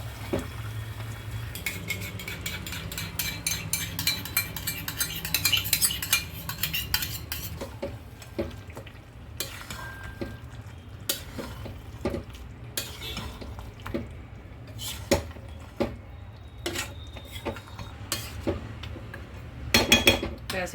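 A spoon stirs whipped yogurt, sweetened with a little sugar, into chicken curry in a pan. It scrapes and clinks repeatedly against the metal over a soft sizzle, steady at first and then in irregular taps, close up with no talking.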